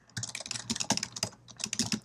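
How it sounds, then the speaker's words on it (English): Typing on a computer keyboard while writing in a Google Docs document: quick, uneven bursts of light key clicks, close and fairly quiet, with no talking. "as soon as I start typing in this document"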